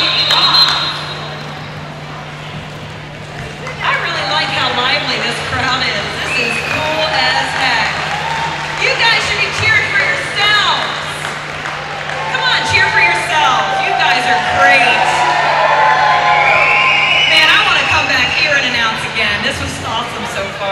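A roller derby crowd cheers and claps steadily, a loud, sustained wash of applause and voices with music faintly underneath.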